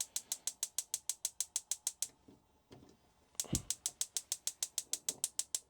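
A gas cooker's igniter clicks rapidly and evenly as the knob is pushed in and twisted, with a short pause of handling noise midway before the close, sharp clicking resumes.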